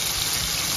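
Water pouring into a cooking pot of okra sauce, a brief steady gush close by.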